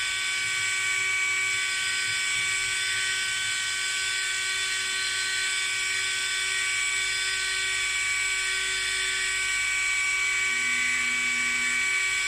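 A Ferranti aircraft horizon gyroscope spins at up to 24000 rpm: a loud, steady high-pitched whine drones continuously, close and unchanging throughout.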